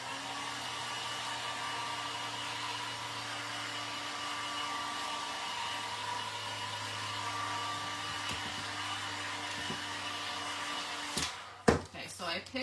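A hair dryer runs steadily on a painted thrifted-wood craft piece, a constant whirring hum at close range that cuts off near the end, followed by a few handling knocks.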